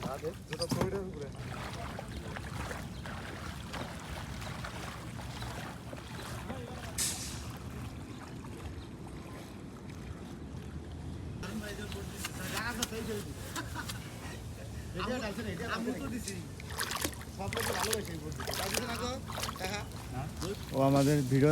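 Wooden boat hauled up out of a beel in a village on the Padma, with water sloshing, scraping and handling noises throughout, while people talk over it and wind buffets the microphone.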